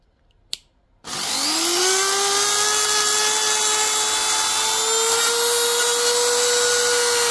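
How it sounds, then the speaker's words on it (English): Dremel rotary tool enlarging a hole in a 1/18 diecast car body: after a click and a brief pause it spins up to a steady, loud, high-pitched whine that holds close and unbroken for several seconds, no talk. "And then we make that hole bigger with a Dremel."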